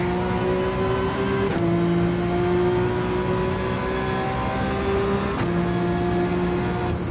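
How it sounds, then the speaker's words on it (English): A Porsche 911 engine in the racing game Gran Turismo 7 holds a steady, loud mechanical whine that drops in pitch twice at gear shifts, then builds again, with no voices over it. "The 911, you can really hear when the engine needs to be revved. It starts to get more high-pitched."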